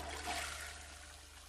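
A toilet flushing in The Sims 4, a steady broadband rush of water that swells early, then fades slightly into a continuing trickle, heard alone at moderate level.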